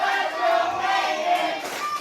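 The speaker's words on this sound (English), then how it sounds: "The crowd rallying behind Payton Ayers" Pro wrestling crowd at a live independent show cheering and chanting in support of a wrestler, a steady loud wall of massed voices with rising rallying shouts throughout.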